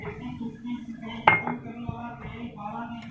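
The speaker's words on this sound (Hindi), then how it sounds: "अच्छी तरह इसको मिक्स कर लेंगे।" Gram flour (besan) batter being mixed in a bowl for potato and eggplant pakoras, giving soft scraping clinks of utensil against bowl, with one sharper knock partway through and quieter stirring around it.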